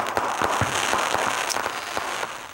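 Fireworks pop and crackle in quick, irregular bursts against a steady background rumble in Greater Victoria.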